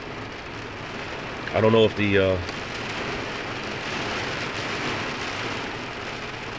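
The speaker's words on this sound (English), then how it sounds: "I can't get over how loud this rain is." Very loud, heavy rain pours in a continuous dense hiss, with someone briefly speaking over it early on.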